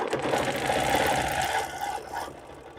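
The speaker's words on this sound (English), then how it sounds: "I'm working on a class sample using a nested circle ruler quilting on a sit-down long arm." A Bernina Q20 sit-down longarm quilting machine stitches nested circles along a ruler, running as a loud, steady rapid whir that eases off toward the end.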